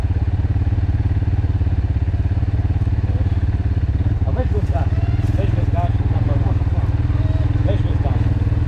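A quad ATV, CF Moto or Segway Snarler, idles loud and steady close by, its engine a constant low drone with a light rise partway through while people talk faintly over it.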